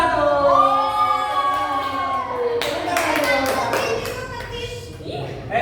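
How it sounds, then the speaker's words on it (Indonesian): Applause for the winning group in a classroom lesson: a teacher's voice is followed by a brief burst of many hands clapping together, nearby and moderately loud, which then fades back to talk. "Berikan tepuk tangan kita pada kelompok 1."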